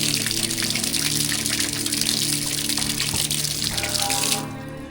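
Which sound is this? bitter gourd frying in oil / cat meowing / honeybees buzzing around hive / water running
water running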